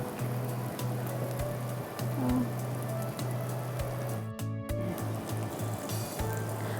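Spices sauté in a pan for a Bengali prawn malai curry, giving a steady close sizzle with light crackles and occasional stirring taps, and a brief dropout partway through.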